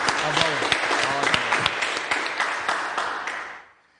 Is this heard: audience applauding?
yes